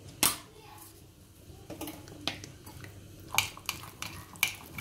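Chicken being stirred and tossed with spices and oil in a bowl, irregular soft knocks and scraping clatters close by, with some quiet background talk.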